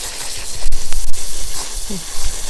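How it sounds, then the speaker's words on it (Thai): Water sprays in a loud, broad hiss while climbing rose roots are washed off in a garden. The rushing stream surges and dips in uneven bursts, with a voice briefly heard alongside. "จับล้างน้ำเลยค่ะ ล้างให้ดี"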